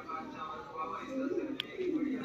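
Punjabi Malwai pigeons coo in soft, low, rolling calls beneath a steady background hum, close and quiet, with a brief sharp click near the middle.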